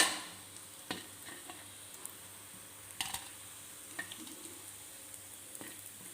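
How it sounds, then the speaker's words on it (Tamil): Fish cutlets frying in hot oil on a low flame, giving a steady faint sizzle with occasional soft pops and ticks throughout, no voices. "எண்ணெய் சூடாயிடுது எண்ணெயில் போட்டுக்கிறேன் சிம்மில் வச்சு இதுமாரி பொறிச்சு எடுத்துடலாங்க"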